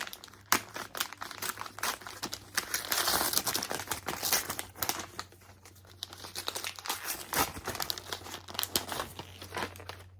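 A heavily taped book package is unwrapped nearby, heard as continuous loud crinkling and crumpling of paper with sharp tearing bursts, with no talking.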